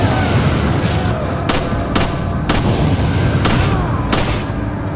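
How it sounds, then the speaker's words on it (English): An explosive barrel is shot and blows up during Resident Evil 5 combat on Veteran difficulty, set amid a dense, continuous barrage of loud gunfire and booming blasts, with several sharp, closely spaced impacts standing out. "Nope, shoot the barrel, fucking shoot the barrel."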